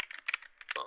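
Rapid keystrokes on a computer keyboard come through an open conference-call line, a quick cluster of clicks in uneven bursts.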